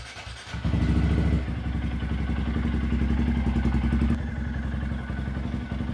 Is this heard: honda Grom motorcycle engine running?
yes